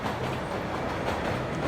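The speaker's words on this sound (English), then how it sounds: "But he's still discovering intimidating new obstacles, like rumbling subway grates." Low, steady rumble of a subway train passing beneath street grates, a continuous muffled roar with faint rhythmic clatter, fairly quiet and brief with no talking.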